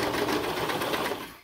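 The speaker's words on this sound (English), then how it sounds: "And then I hold it under here as I serge the top." A serger sews along the neckband of a sweater dress, giving a rapid, steady mechanical buzz up close that runs briefly and then winds down and stops.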